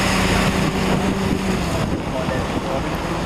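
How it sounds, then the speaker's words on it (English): A military Champ vehicle climbing an off-road hill at a Brooklands military day, its engine drone wavering beneath strong, constant wind buffeting on the microphone. "our driver's decided to have another go at the hill to show the superiority of the champ under such situations"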